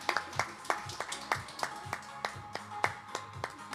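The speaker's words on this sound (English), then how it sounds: "round of applause for our winners" Sparse hand clapping for pitch competition winners at an open innovation tech event, a few distinct close claps in an irregular rhythm, fairly quiet, with faint voices in the background.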